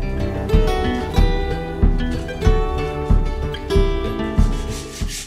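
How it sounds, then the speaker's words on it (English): A hand rasp shapes spruce and mahogany strips on the front deck of a DIY strip-built kayak, making close, regular rasping strokes in an even rhythm, roughly one every two-thirds of a second, over a steady tonal background. "More rasp work."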